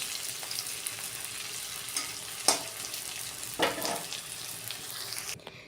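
Potatoes frying in hot oil, a soft, fairly quiet sizzle with a couple of brief louder stirring scrapes, ending abruptly.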